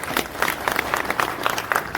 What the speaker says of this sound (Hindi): ये परिवार के लिए आप लोग तालियां बजाओ जिन्होंने अपने को ये पद दी है।